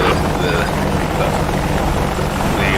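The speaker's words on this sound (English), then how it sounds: "I really need to figure out how to shut down this helicopter manually" An AH-64D Apache helicopter engine in DCS World churns with a loud, steady rotor and turbine drone, its low thumping pulse continuous and close for the whole stretch.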